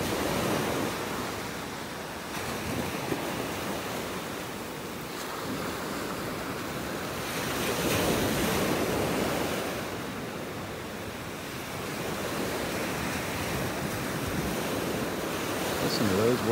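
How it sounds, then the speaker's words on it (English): Ocean waves wash steadily onto a shell-cleared beach in North Naples, Florida, a continuous broad roar with gentle swells and some wind buffeting the microphone. "Listen to those waves."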